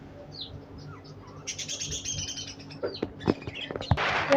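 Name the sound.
many birds chirping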